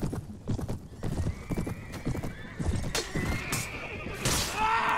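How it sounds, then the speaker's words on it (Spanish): Horses gallop in the Mount & Blade Warband video game, with a dense, continuous clatter of hooves and a neigh near the end, all steady and close. "Son caballos."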